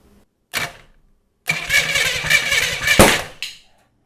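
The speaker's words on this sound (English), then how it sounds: "let's try turning the ignition on" A Chevy Corvair flat-6 engine with carburetors freshly primed cranks over with ignition on: a brief starter burst, a pause, then about two seconds of loud chugging cranking ending in a sharp pop before falling silent.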